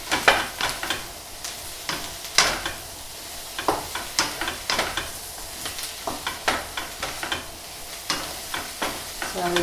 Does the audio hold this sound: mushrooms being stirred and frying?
yes